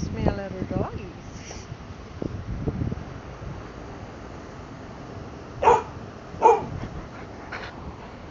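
A dog barks twice in short, sharp bursts a few seconds apart, with faint whimpering and wind noise on the microphone around them.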